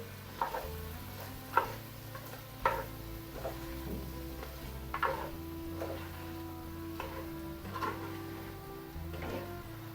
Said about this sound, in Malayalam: ഇതെല്ലാം കൂടി നല്ലതുപോലെ ഒന്ന് മിക്സ് ചെയ്തിട്ട്